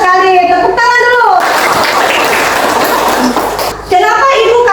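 Schoolchildren in a classroom break into a burst of hand clapping lasting a couple of seconds, loud and close, with a teacher's voice speaking just before and after.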